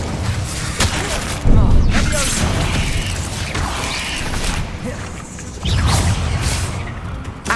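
Spell-casting effects from the Hogwarts Legacy fire spell Incendio: two loud whooshing, crackling bursts of fire, roughly four seconds apart, over a busy layer of game noise.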